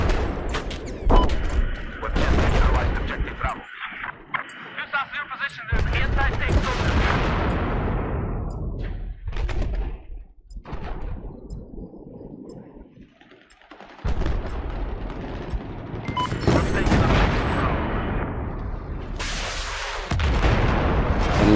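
A building collapses amid gunfire in Battlefield 4. Loud machine-gun bursts and heavy booms merge into a long, roaring crash of rubble, followed by more close gunfire and explosions, with someone talking now and then.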